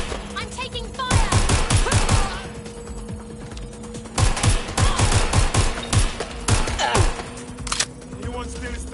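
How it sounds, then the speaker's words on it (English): Rapid bursts of automatic gunfire in a PS4 shooter game, loud, close volleys of crackling shots separated by short pauses, with mechanical clicks in between. "Shots fired."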